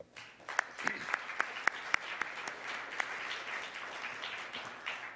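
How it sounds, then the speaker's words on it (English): An audience at a BeneFacta Day 2014 gathering applauds after a presidential speech, steady moderate clapping filling the room with a few sharp, distinct claps standing out near the front. "let's give ourselves, all of you, a round of applause."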